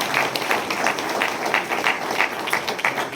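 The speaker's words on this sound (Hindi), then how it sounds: "जोरदार तालियों के साथ" Loud applause fills a Christmas ceremony hall, many people clapping in a dense, steady patter that keeps up without a pause.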